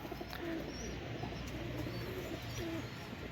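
Deshi pigeons, a chick and its parents, cooing softly in repeated low calls against a steady background hum, with faint chirps above.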